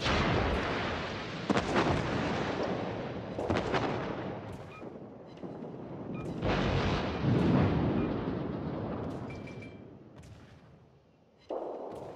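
Warship artillery in the World of Warships naval game at tier 10 in a clan battle: several heavy booming salvos spaced a few seconds apart, each rolling off into a long rumbling decay, loud and close with no voices.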